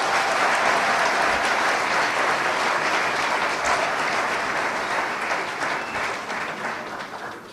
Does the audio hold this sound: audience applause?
yes